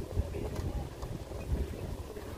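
Strong wind outdoors at the Museum of Islamic Art in Doha, Qatar, buffets the microphone with a steady low rumble and occasional heavier gusts, with no talking.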